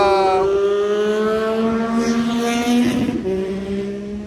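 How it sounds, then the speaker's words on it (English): A motorbike drives past nearby with a loud, sustained engine drone whose pitch bends downward as it goes by, no talk over it. "there's a lot of guys on motorbikes that like to drive through here and do wheelies and whatnot, and yeah, that's one of those driving by just now"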